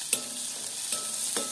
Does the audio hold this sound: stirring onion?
yes